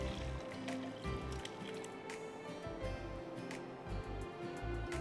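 Boiled fish with salt, black pepper and bay leaf is tipped into a strainer, giving wet squishing and dripping sounds with liquid trickling through, close and steady throughout with no talking.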